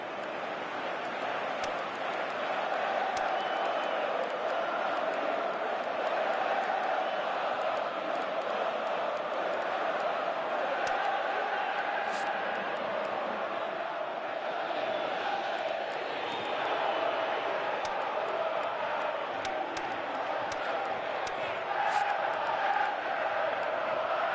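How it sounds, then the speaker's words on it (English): A stadium crowd in the PES 2018 football video game keeps up a broad, steady roar, swelling slightly in places, with a few faint sharper accents on top, continuous and loud for the full stretch. "you can feel and hear how the crowd are reacting to all of this."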